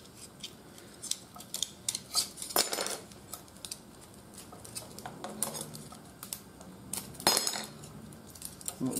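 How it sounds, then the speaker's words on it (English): An ultralight knife cuts a mushroom on a nylon base during outdoor camp cooking, giving a series of quiet, close slicing taps and light metallic clinks spread unevenly over several seconds. "I'll leave that on there and cut up the mushroom."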